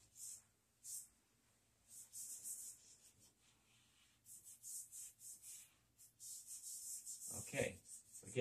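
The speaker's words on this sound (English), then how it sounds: "I'm going to rub it real good" Pastel being rubbed by hand across a still life drawing of a shoe, giving soft intermittent scrubbing bursts that stop and start, with a few sharper rustles near the end.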